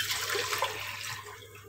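Water is poured from a jug into a cooking pot on a stove while making pakora kadhi, a continuous splashing gush for under two seconds.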